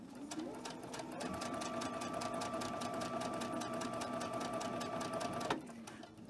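A sewing machine runs in one steady burst of rapid stitching, close and even, then stops abruptly near the end.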